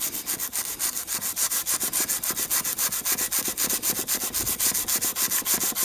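A brush scrubs the old leather covering of a Teleotto record player in quick, even back-and-forth strokes, a loud rhythmic rasping that repeats steadily with no talking.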